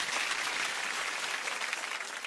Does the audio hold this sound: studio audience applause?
yes